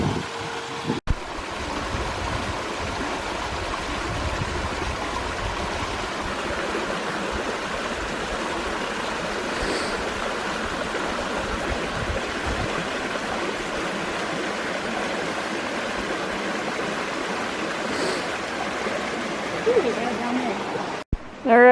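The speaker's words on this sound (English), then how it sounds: "we are going to filter some water and refill here while we know we have a nice, beautiful source" Steady rushing stream water flowing close by at the source of a lake along a hiking trail near Big Portage Lake, a continuous broadband wash that barely changes for the whole stretch.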